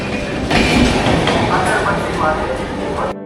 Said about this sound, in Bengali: চেন্নাই মেল আমাদেরকে আমাদের গন্তব্যে পৌঁছে দিয়ে সে ছুটে চলল তার গন্তব্য চেন্নাই সেন্ট্রালের দিকে।